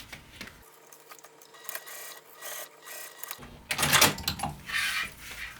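Sewing machine top-stitching jelly vinyl onto a seam for a travel pouch, heard as a faint, close mechanical whir and rasp that swells into a louder burst of stitching near the end.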